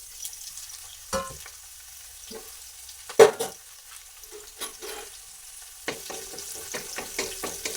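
Onions frying in a pan for a brinjal chutney, a soft steady sizzle running throughout with occasional sharp clatters and scrapes of stirring, no voices.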